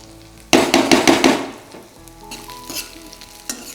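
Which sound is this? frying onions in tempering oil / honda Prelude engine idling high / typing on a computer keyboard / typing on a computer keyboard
frying onions in tempering oil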